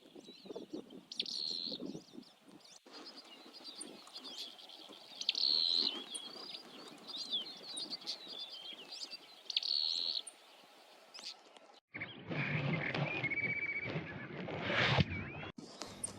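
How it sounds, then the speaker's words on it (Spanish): A yellow-billed tit-tyrant calls repeatedly outdoors in Argentina, thin high chirps and trills recurring over a quiet background, with a rougher stretch of louder noise near the end. "un cachudito pico amarillo, una especie hermana del pico negro"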